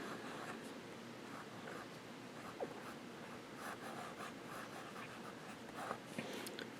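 A dip pen nib scratching across paper, faint soft scraping strokes in a quiet room with small irregular bursts of friction noise.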